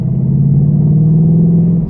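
Low, steady engine rumble from an idling Ford Mustang, loud and close, holding an even drone throughout with no talking.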